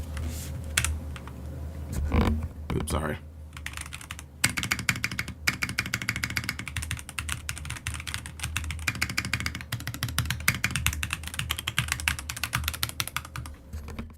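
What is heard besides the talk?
typing on a Redragon computer keyboard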